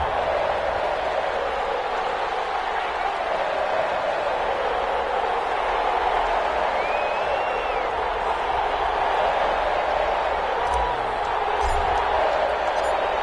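Stadium crowd in Madden NFL before a Denver Broncos versus Las Vegas Raiders game, a steady roaring murmur with a few thumps near the end, under a commentator's voice.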